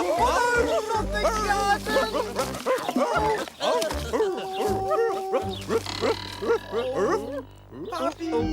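Cartoon characters playing at being puppies bark and yip in quick bursts, voices imitating dogs, mixed with excited talk and background music.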